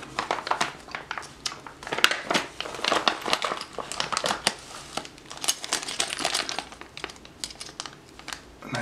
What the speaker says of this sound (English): It's in a nice plastic packaging bag here.